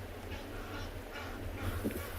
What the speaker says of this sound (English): In the background, what you're hearing are some Egyptian geese.